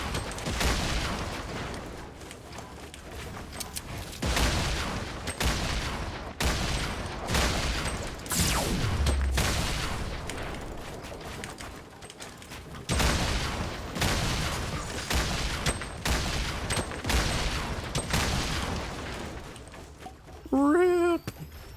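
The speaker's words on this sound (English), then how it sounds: "I meant let's get grenaded a million times late game" Repeated grenade explosions and bursts of gunfire in a late-game video game match, a steady barrage of sharp blasts and booms lasting the whole stretch, with a player talking throughout.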